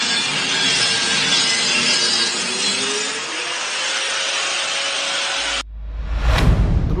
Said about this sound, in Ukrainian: він взяв болгарку і прямо там пилив якийсь метал